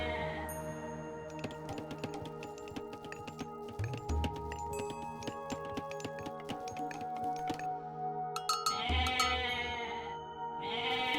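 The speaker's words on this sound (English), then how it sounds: "Got a goat there." Goat bleats in the Age of Mythology strategy game, several repeated bleats and calls layered over game music and clinking interface sounds, continuing for about eleven seconds.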